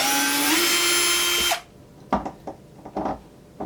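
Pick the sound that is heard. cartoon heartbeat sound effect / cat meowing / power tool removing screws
power tool removing screws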